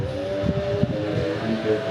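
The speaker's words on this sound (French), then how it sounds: "il a reçu son scooter, il est en train de faire un rodage" Engine of a brand-new scooter being run in, revving with a buzzy pulsing drone and small surges, heard nearby in a small walled village, with no talk.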